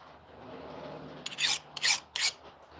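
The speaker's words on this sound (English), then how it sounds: "So you guys have to bear with me while I do some sharpening again." A hoof trimming blade being sharpened, three loud, close, rasping strokes in a quick sequence after a quiet start, with no talking.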